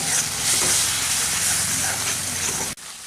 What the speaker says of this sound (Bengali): এখন এই মশলাটাকে খুব ভালোভাবে একটু কষিয়ে নেব